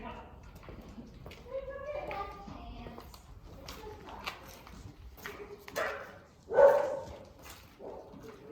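Several dogs bark in short, scattered bursts, one sharper and louder near the end, mixed with people talking nearby.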